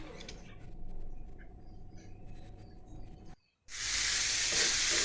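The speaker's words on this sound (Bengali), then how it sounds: "শুধু উস্তাটা ভাজি করবো।" Bitter gourd fries in a pan, a soft steady sizzle with faint crackles that cuts out briefly before returning as a louder, brighter hiss.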